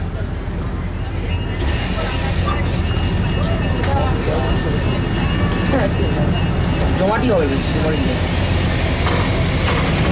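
Steady rumble and rhythmic clatter of a moving replica train at a zoo, heard from on board, with voices talking over the noise throughout.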